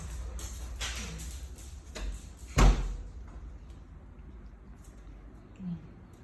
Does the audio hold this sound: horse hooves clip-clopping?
no